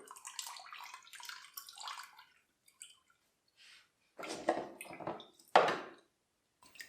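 Wet recycled paper pulp scooped with a kitchen strainer from a tub of water, giving soft splashy sloshing and dripping sounds in a few bursts with short quiet gaps, close and moderately loud.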